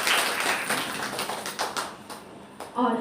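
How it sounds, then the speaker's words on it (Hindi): Hand claps from an audience at a Brahma Kumaris memorial meditation gathering, a brief burst of scattered clapping fading toward the end, followed by a voice starting to speak. "एक बार पुनः फिर से अपने लिए जोरदार ताली से स्वागत करेंगे"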